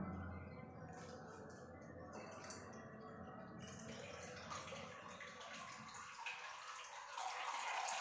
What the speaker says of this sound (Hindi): दबाव डालने पर ये तीनों पाइप से पानी बाहर की ओर निकल रही है।